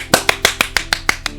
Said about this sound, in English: I'm gonna clap for you.